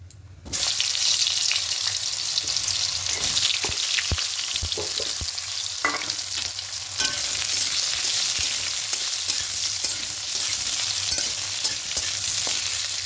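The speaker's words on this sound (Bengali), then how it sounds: "এতে সরষের তেল দিয়েছি। এবার এখানে প্রথমে বেগুনগুলোকে ভেজে নেব।" Eggplant pieces fry in hot mustard oil in a pan, giving a loud, continuous sizzle broken by occasional clicks and scrapes of stirring.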